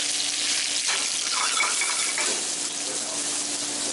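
Mushrooms sizzle on a grill with a steady, loud, close hiss that holds evenly throughout, with no one talking.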